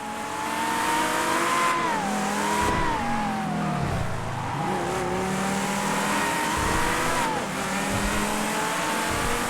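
Tempesta supercar in GTA accelerating hard around a rough race track, a loud continuous engine wail rising and dipping through gears with faint tire squeal, close and steady with no talk.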